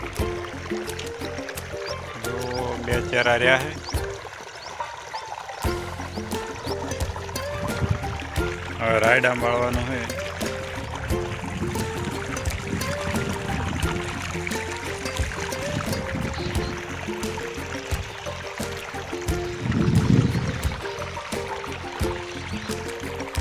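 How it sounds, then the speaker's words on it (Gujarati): Irrigation water flows and trickles into a mustard field on a farm, a steady low wash running beneath someone talking throughout. "તો મિત્રો ફાઇનલી પાણી પીરેવા આવ્યું છે"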